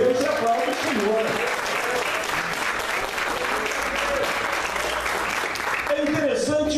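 A church congregation claps continuously in praise, a thick, even rattle of many hands filling the room, with voices faintly rising near the end.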